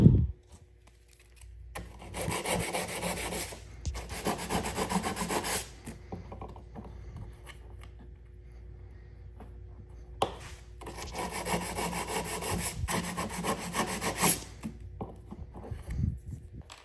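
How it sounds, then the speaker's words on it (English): Hand sanding of wooden aircraft rib parts to remove a thin layer of surface oxidation, heard as two long bursts of close, steady rasping strokes separated by quieter pauses. "So I'm sanding these to take off just the little bit of fresh oxidation on the top layer."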